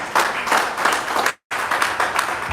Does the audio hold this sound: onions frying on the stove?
no